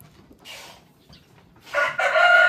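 Rooster at a free-range village chicken farm, a short nearby crow rising at the end after softer clucks, with no talk.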